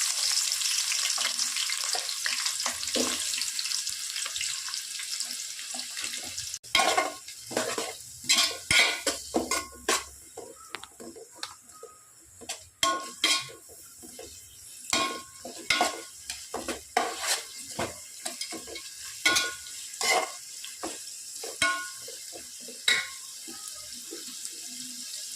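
Sliced big onions go into hot oil with star anise, cinnamon, cardamom, clove and bay leaf for mushroom biryani, sizzling and frying under repeated sharp stirring scrapes of a spoon against the pan.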